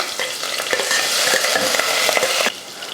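Onions tossed into hot oil with spluttered mustard seeds, urad dal, curry leaves and asafoetida crackle loudly, with repeated stirring scrapes over a dense sizzle that eases toward the end; no speech.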